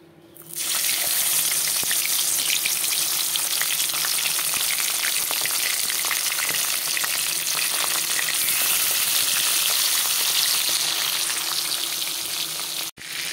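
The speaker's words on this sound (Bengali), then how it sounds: "আমি মাছগুলোকে তেলে দিয়ে দিলাম" Loud, continuous sizzling and crackling of fish frying in hot oil in a wok, steady throughout with no voices.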